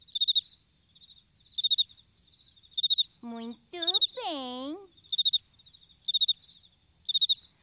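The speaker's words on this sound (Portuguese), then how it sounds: "Somente os grilos machos produzem som." Rhythmic bursts of male cricket chirping repeat steadily in short pulses, with a brief spoken exclamation breaking in midway.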